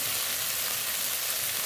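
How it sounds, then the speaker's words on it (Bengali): Spices with turmeric, cumin, green chillies and dried red chillies fry in oil in a pan: a dense, steady, close-up sizzle, bright and hissing, with no pauses. "একটু জল দিয়ে মশলা কষিয়ে নেব"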